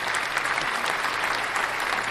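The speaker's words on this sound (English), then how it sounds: "give him a round of applause" A burst of applause from a group, dense steady clapping that stays at an even level for the whole stretch.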